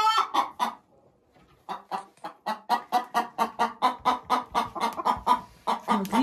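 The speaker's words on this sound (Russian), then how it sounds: "Вот видите, там курица сидит еще одна." A hen in a chicken coop clucks in a rapid, regular string of close, loud clucks after a brief pause, the rhythm steady and insistent.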